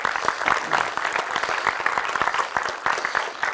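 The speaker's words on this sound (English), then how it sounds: "So big applause for Chris." An audience claps steadily for a speaker at a talk, a dense, continuous patter of many hands at moderate volume lasting the whole stretch, with no voices over it.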